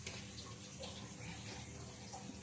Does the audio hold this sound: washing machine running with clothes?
yes